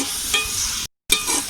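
Onions fry in ghee in a pan, giving a bright close sizzle with a stirring scrape, broken by a brief silent gap before the crackle resumes.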